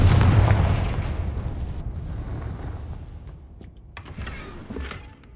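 A Confringo blasting spell cast in Hogwarts Legacy gives a loud, booming burst at the start that rolls into a long, fading rumble with scattered crackles, no voices present.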